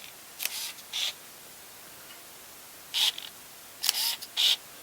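Several Contax G rangefinder camera shutter bursts at 1/2000 second, each a quick whirring click, a pair early on then a cluster of three after a quiet gap.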